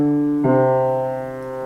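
Piano notes played by the left hand sound in a soft, sustained step, one tone ringing and then a second struck just below it, close and clean with no talk.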